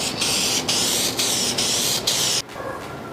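Repeated bursts of spray paint hiss out in close, even passes, clear coat or paint laid down with about 50% overlap on a 40HP VW engine part, each loud spray separated by brief pauses before a final quieter stretch.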